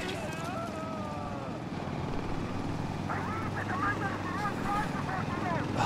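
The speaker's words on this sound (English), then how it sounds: "Hey, chopper." Helicopter in the shooter game Insurgency: Sandstorm thrumming steadily with a low rotor drone throughout, while voices talk and shout over it and the sound grows slightly louder.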